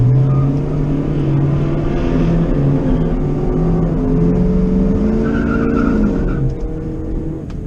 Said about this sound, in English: This will be 2 Camaro SS's back to back racing.